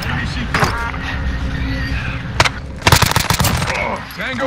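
Bursts of gunfire in Warzone, a few sharp shots early and a dense rapid volley near the end, mixed with tactical radio chatter and voices talking throughout.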